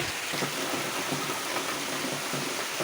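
Steady rain patters down in a dense, continuous hiss, fairly close, with no voices.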